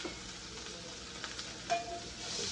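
A cheap cut of steak sears in a hot pan during its final minute, giving a steady broadband sizzle with a few small pops and spits and no talking.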